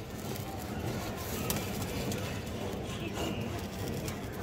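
Pigeons coo in a loft where female high-flyer pigeons are kept, low soft warbles from several birds layered over a constant dense background hiss and rustle, faint and continuous rather than distinct single calls.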